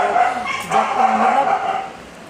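A dog barks repeatedly in a home during a family visit, the yips steady and fairly close across the whole clip, mixed with faint background voices.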